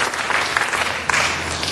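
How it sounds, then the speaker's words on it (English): Audience applause at a city council meeting, a loud, close burst of many hands clapping with a brief swell partway through. "Let's give the T-shirt a round of applause."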